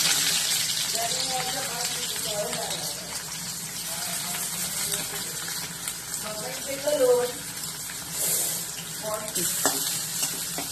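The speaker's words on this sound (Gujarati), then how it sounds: "તેલ ગરમ થઈ ગયું છે, એમાં આપણે ડુંગળી નાખીશું" Onions drop into hot oil and fry with a continuous sizzle, stirred now and then with clinks and scrapes, while a voice speaks intermittently over the cooking.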